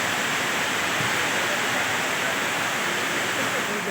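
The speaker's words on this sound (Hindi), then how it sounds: "पानी गिरई है चालू छे, एकदम घनघोर घटा छाए हावे" Heavy monsoon rain pours down under dark clouds in rural Chhattisgarh, a dense, constant hiss of falling water with no breaks.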